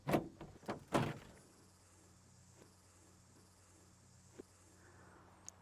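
The engine cover on a 1965 GMC Handi-Van, converted to a Chevy 350 V8, is shut with a few close, loud thumps and knocks in quick succession, then quiet with only faint ticks.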